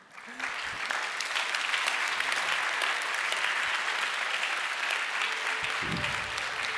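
A concert audience at an SDS High school arts event breaks into sustained applause that swells quickly after a brief quiet start and holds strong and even. A voice briefly cuts in near the end.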